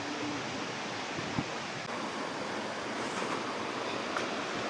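Steady wind roars outdoors in a rural setting, a broad continuous rushing with slight gusts and a couple of brief bumps, loud and unbroken throughout with no talk.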